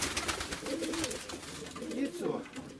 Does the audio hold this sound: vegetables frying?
no